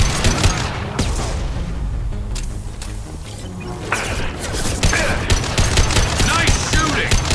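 Rapid bursts of automatic gunfire and weapon fire from a Mass Effect 2 firefight, loud and continuous with dense overlapping shots and impacts, game voices calling out in between.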